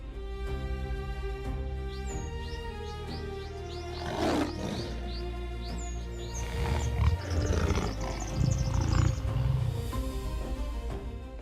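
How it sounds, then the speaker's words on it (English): Lion roaring on the savanna, deep repeated roars building over several seconds, loud and near, with faint bird chirps scattered above and no talking. "The lion's roar is a clear declaration of power."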